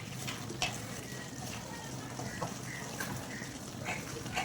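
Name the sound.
chicken meat being stir-fried (bhuna) in pan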